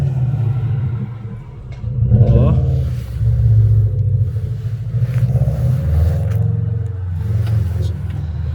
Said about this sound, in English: Car with big pipe.